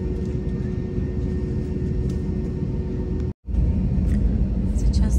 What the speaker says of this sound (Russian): Сейчас самолет будет набирать скорость и будет взлетать.